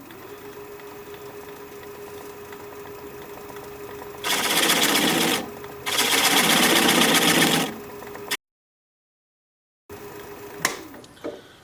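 A wood lathe spins a four-legged square bowl while a long swept-back gouge cuts it, giving a steady low hum broken by two loud, rough bursts of cutting noise, a sudden silence, then renewed turning.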